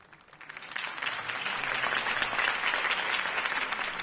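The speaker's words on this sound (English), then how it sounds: "could have heard that applause" Applause from a crowd in the video game Batman: The Telltale Series swells up from quiet and holds steady, a dense wash of clapping without voices.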